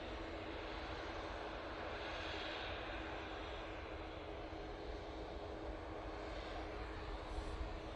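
An Embraer E2 jet arriving from Amsterdam Schiphol at Manchester Airport, its engines giving a steady, fairly faint broadband roar that holds level throughout without voices.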